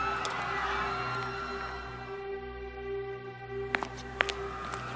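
A large crowd of protesters marches through a city street at New Parliament Square, a dense, continuous murmur of many voices with a steady low drone beneath and a few sharp shouts or whistles rising near the end.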